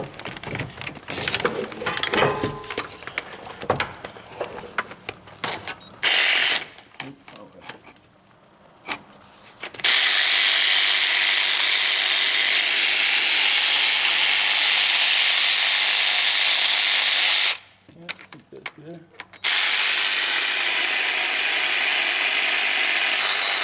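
A ratchet clicks rapidly and steadily while removing the power steering pump retaining bolts on a Dodge Ram with hard steering and a noisy pump, close up in long loud bursts separated by brief pauses.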